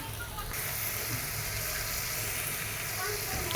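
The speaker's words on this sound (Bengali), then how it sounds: "আমি একটু কষে নেব কষে নিয়ে ভুনা করে নেব" Onions fry in a pan with a steady sizzle and hiss, while occasional stirring scrapes sound beneath the constant crackle of hot oil.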